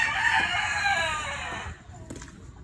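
Chickens calling close by, a rooster's long crow trailing off into softer clucks, with no talking.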